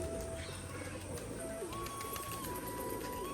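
Pet pigeons kept in a cage at home coo softly and steadily, with a faint constant hum in the room.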